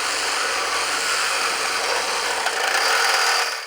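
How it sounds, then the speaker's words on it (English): A Makita DJR189Z 18V cordless reciprocating saw with a metal blade cuts through 30 by 30 mm square steel tube, making a loud, close, harsh rasping buzz that runs continuously throughout, with no talking. "Also a good challenge for this reciprocating saw."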